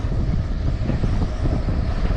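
Wind buffets the microphone on a boat while fishing on the Tamar River in Tasmania, a steady low rumbling roar with no voices.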